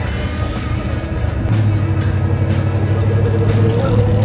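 A 1957 Chevrolet Bel Air engine cruises steadily in third gear at about 40 mph, a loud, continuous low drone from inside the car that lifts slightly in level partway through.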